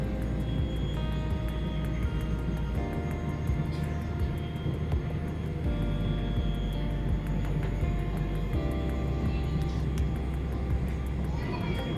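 Steady broadband drone of an airliner cabin in flight on a trip to the Bicol Region, Philippines, loud and continuous throughout, with faint background voices murmuring under it.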